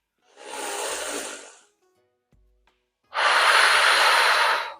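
Two long, deep breaths during a morning yoga stretch, a slow inhale and then a louder, fuller exhale after a short pause, close and airy with no talk.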